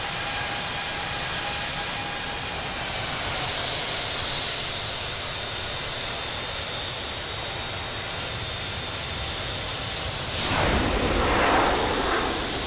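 A Boeing 757 jet takes off in the Infinite Flight game: a steady, loud engine roar holds throughout and swells near the end as the aircraft departs.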